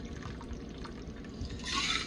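Blue curacao cocktail is poured from a shaker into a glass, a soft liquid trickle and splash that swells toward the end, close and quiet with no talking.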